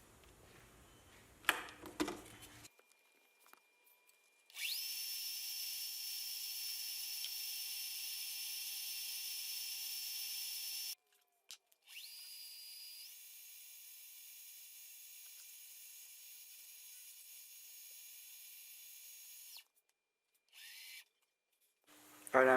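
A loud, steady power-tool whine while sanding a 303 stainless steel ring runs in long continuous stretches, stopping and restarting, with a few clicks and handling bumps at the start and end.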